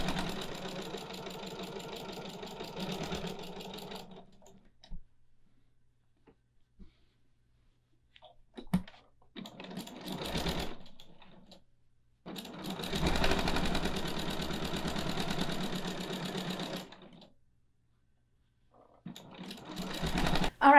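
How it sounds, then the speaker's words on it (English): A home sewing machine runs in bursts while stitching fabric trays with a 3/8-inch seam allowance, each steady mechanical whir stopping and restarting across the stretch with brief quiet gaps and small handling clicks between runs. "I'm gonna go ahead and start sewing from the first pin"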